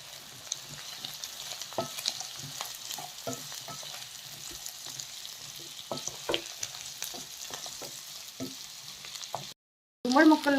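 Pumpkin pieces frying and stirred in a pan, giving a soft steady sizzle with scattered scraping strokes from a spatula, close and moderate, ending in a brief louder clatter after a short gap.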